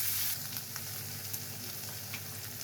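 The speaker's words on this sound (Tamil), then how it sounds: "வெங்காயம் வதங்கட்டும்." Onions frying in a pan for mudakathan kuzhambu, a soft steady sizzle close by, with a brief louder hiss at the start, quiet and without talk.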